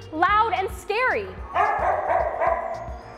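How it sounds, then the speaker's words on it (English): Several dogs at an animal shelter bark and yip in quick succession, loud and echoing, with whining calls between the barks. A steady mechanical hum runs underneath. "with this many dogs and cats in one area, it can get really loud and scary"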